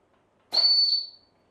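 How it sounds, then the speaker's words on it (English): Breathing apparatus warning whistle on an SCBA set blowing as the cylinder valve is slowly opened, a single shrill, steady whistle lasting under a second, close and clear, then quickly fading. "Having heard the whistle temporarily sound"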